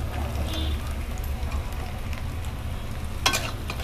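Onions frying in a pan for an egg curry, a steady soft crackle with low rumble underneath and a brief louder stir or clatter near the end, no talking.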